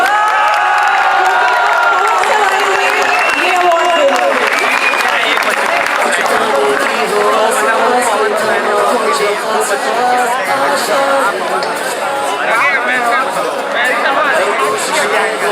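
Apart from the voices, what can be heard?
audience applauding at school award ceremony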